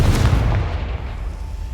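A blasting spell in the game Hogwarts Legacy, erupting as one loud, deep boom with a rumbling tail, close and without talk.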